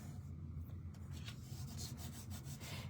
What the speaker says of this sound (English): So let's just rub all of that and get the edges really secured on that.